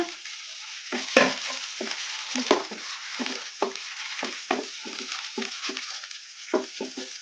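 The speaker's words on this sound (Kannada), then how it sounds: "ಟೊಮೊಟೊ ಏನು ಜಾಸ್ತಿ ಫ್ರೈ ಆಗೋದೇನು ಬೇಡ ಒಂದು ಸ್ವಲ್ಪ ಫ್ರೈ ಆಗಲಿ" A medium tomato, finely chopped, fries in a pan for brinjal fry and is stirred throughout, giving a steady low sizzle broken by repeated scraping strokes of the spoon. The sound is close and continuous, with no voices.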